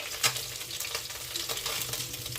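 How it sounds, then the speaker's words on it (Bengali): Singhi fish fries in a pan with oil, a steady close sizzle with faint stirring and scraping throughout and a brief sharper hiss near the start. "আমার মাছের দুটো সাইডই ভাজা হয়ে গেছে, এবার আমি তুলে নিচ্ছি।"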